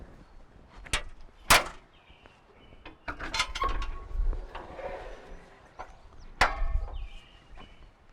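Rear door of a Takeuchi TL12v2 compact track loader being opened, with sharp metallic clacks and latch knocks, a scraping swing and a final clunk, close and fairly loud with quiet gaps between.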